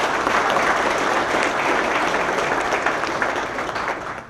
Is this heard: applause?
yes